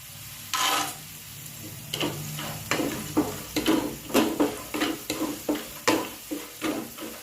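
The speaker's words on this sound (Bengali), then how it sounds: "এবার আমি দিয়ে দেব বাদাম।" Peanuts added to garlic and chili frying in a pan, followed by repeated spoon stirs and scrapes against the pan in a loose rhythm over a low sizzle, close and clear with no voices.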